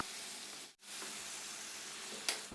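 Cauliflower stir-fries with pork belly in a pan, making a continuous soft sizzle that cuts out briefly once, with a sharp little click near the end.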